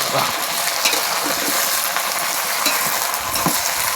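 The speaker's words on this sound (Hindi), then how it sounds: "मिर्ची का छौंका लगा ना" Chili tempering (chhaunk) sizzles and spatters in a frying pan for a simple vegetable offering cooked in a forest hut below a hill, a steady close hiss with occasional stirring scrapes and no talk.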